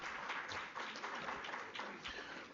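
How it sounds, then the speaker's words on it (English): Colleagues at a university research and innovation week session give a professor another round of applause, a soft, steady patter of clapping heard from a distance throughout. "Colleagues, let's give another round of applause to Professor Maseko."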